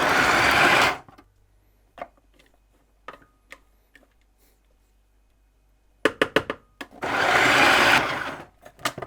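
A food processor whizzes energy bar mix with peanut butter, running in two loud bursts of about a second each, separated by quiet clicks and taps, with no talking.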